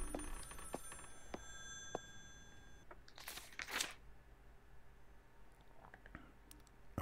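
Telephone ringing in the game Maid of Sker, heard as scattered faint clicks with a brighter jangling burst midway, then quieter pulses over a low ambient hum and no speech.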